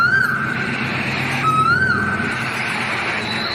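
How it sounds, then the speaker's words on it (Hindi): A koel, a kind of cuckoo, calls twice in a forest, each a clear rising whistled note spaced about a second and a half apart over a soft background hiss. "उन्हें कोयल की कूक सुनाई पड़ी।"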